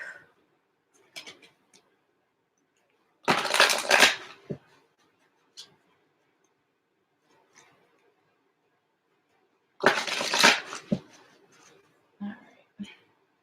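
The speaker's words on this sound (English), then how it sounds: "I just want to shuffle these real quick." Two short bursts of cards being riffled and shuffled, a few seconds apart, with scattered small handling clicks in an otherwise quiet room.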